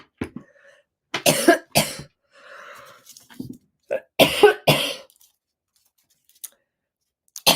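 A person coughs in several sharp, loud bursts with pauses between them, followed by throat clearing and breathing close to the listener.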